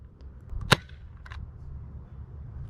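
A single sharp snapping pop of a Dart Zone Pro MK-2.1 foam dart blaster firing, followed by a faint click, over low background rumble.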